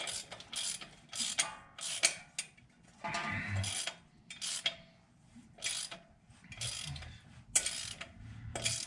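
Ratcheting on flywheel bolts of a 1965 Mustang, heard as bursts of rapid clicks in repeated pulls with short pauses, close up and fairly quiet.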